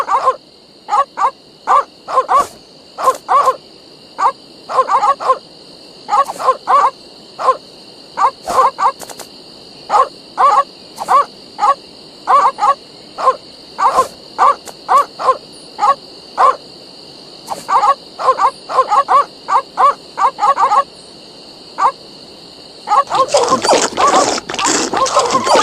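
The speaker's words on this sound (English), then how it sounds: "These dogs are not dead. They are only sleeping." Sleeping guard dogs in The Secret of Monkey Island: Special Edition give off steady, rhythmic snoring grunts and breaths, mostly in paired bursts, over a constant high background tone. The clip ends in a denser, noisier stretch.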